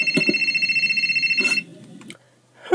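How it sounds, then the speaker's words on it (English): A telephone rings in a steady repeating trill for about a second and a half, breaks off, then gives a couple of short chirps before falling quiet. "It's somebody's phone."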